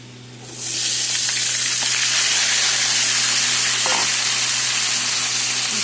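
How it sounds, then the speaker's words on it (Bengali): Half a kilo of cut squash and two potatoes hit hot oil in a pan, a loud sizzle swelling up within the first second and then holding as a steady, close, crackling hiss without talk. "এগুলোকে ভাজা করে নেব।"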